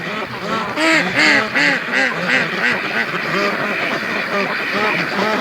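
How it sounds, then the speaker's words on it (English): A flock of free-range ducks returning home to their pen quacks in a busy, overlapping chorus of nasal calls, close and loud, with a voice speaking over them. "But the ducks are just coming home."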